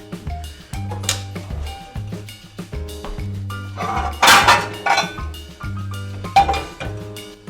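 Metal pans clank and clink against each other in a home kitchen, several sharp bright strikes and rattles in an irregular rhythm, close by and fairly loud with no talking.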